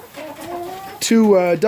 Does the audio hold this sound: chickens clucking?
yes